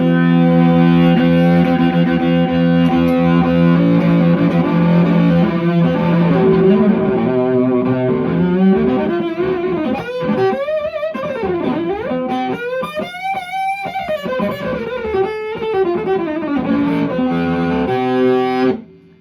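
An Outlaw Fiddle EV3 electric violin plays through heavy distortion, thick buzzing sustained notes and sliding phrases, loud and continuous with no talking.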